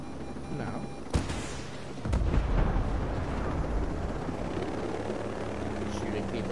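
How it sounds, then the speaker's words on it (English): Gunfire and blasts in the video game Ghost Recon Breakpoint, a sharp shot followed by a heavy booming burst and a sustained low rumbling roar, fairly loud and continuous. "Are you shooting the civilians?"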